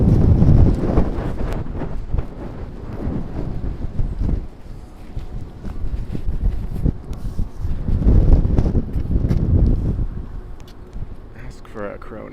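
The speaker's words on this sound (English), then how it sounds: "Woo, that wind is something." Strong wind gusting on a downtown Minneapolis street near a freeway on-ramp in December, roaring and buffeting the microphone in loud rumbling waves that swell and ease, with a voice talking intermittently over it.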